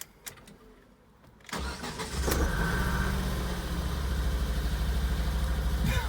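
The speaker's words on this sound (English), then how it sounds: "Start the engine." A car engine with a persistent misfire cranks and catches after a quiet pause, then settles into a loud, close, uneven idle that runs to the end with no talk over it.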